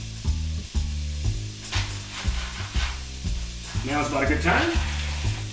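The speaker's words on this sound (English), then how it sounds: "We're gonna go ahead and add the crawfish into that." Crawfish cooking in a pot give off a steady broadband sizzle under prominent background music, with a brief spoken line partway through.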